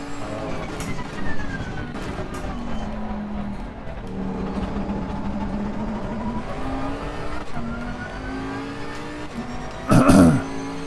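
A GT race car engine in Assetto Corsa Competizione holds high revs, then drops and climbs through gear changes with a rising and falling whine, ending in a short harsh burst near the end. The engine sounds close and continuous, with no voices.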